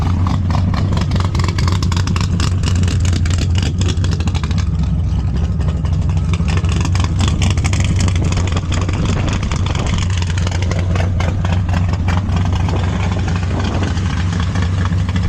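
A big-block 1974 Plymouth Scamp idles steadily, its deep, even rumble loud and close with a faint lope, running alone without any talk.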